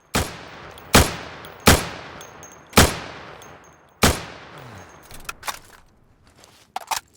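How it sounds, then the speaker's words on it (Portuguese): Gunshots fired at wooden targets in the video game Insurgency: five sharp, loud reports at uneven intervals, each trailing a short decay, followed by fainter clicks and handling noises. "Dependendo da distância, é 2 tiros que você tem que dar no alvo de madeira."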